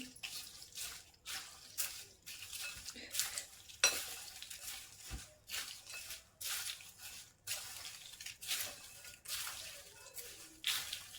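Okra is tossed with red chili powder and salt, giving repeated scraping, stirring strokes in a bowl, each a short burst of rustling, with brief clinks and no talking.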